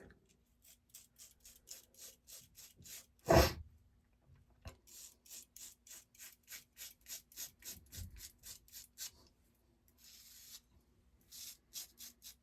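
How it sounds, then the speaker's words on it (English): Single-blade razor shaving facial stubble, a series of short rhythmic scraping strokes, close and fairly quiet, with a sharp knock partway through and no talking. "But very comfortable, smooth shave."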